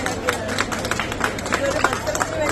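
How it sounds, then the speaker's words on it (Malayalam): Applause from an audience at a book fair stall, a loose, uneven patter of hand claps carrying on for a few seconds under steady crowd chatter and voices. "അവർക്ക് ഈ കയ്യടി പോരാ."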